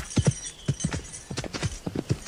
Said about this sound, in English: His canter is very bouncy.